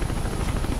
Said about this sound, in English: So now I get to shoot down the helicopter